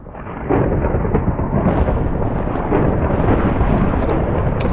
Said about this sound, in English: it's far enough away you can't even see the lightning